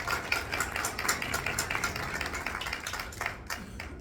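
An audience at a book fair panel on contemporary women writers claps steadily for about four seconds, the individual hand claps fairly quiet and distant, tapering slightly toward the end.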